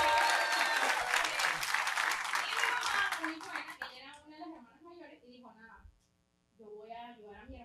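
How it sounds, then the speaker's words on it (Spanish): Loud audience applause at a Venezuelan stand-up comedy show fills the first four seconds, then fades out as speech begins. "Un aplauso para su mamá."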